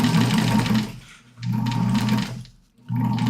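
A Bernina sewing machine stitches in close, loud bursts, a rapid mechanical whirring hum that runs about a second, pauses briefly, then starts up again twice.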